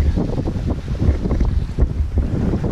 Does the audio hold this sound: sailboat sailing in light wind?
yes